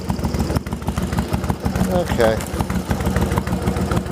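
A Yamaha Virago XV1100 motorcycle engine idles steadily up close with an even, rhythmic throb, and someone speaks briefly over it.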